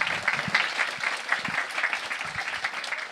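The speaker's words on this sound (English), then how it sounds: "Everybody give a round of applause for Nick Cooney." Warm audience applause welcoming speaker Nick Cooney at an evening lecture, dense and sustained, close and fairly loud without talk.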